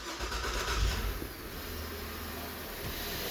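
GMC Acadia engine starting up, a brief cranking burst that settles into a steady low idle, heard close with no talk.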